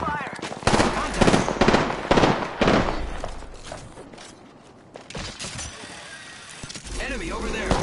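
Rapid bursts of automatic gunfire in Apex Legends, loud and close, firing in dense volleys for the first few seconds, dropping away, then resuming more faintly toward the end.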